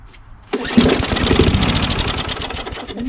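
A Craftsman push lawnmower with a Tecumseh engine, recently fitted with a new magneto, catches after a quiet moment and settles into a loud, steady, rapid-firing run, close by with no talking.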